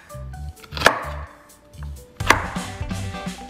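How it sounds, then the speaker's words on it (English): A knife chops through vegetables on a cutting board, with rapid clustered thuds and two sharper knocks, close and clear with no talking. "It just says chopped, so I'm just chopping like whatever"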